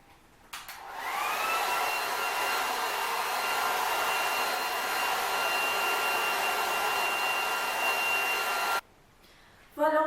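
Hair dryer blowing on hair, switched on with a click and running loud and steady with a high whine for about eight seconds before cutting off, no talk over it.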